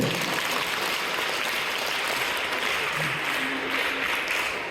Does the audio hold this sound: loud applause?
yes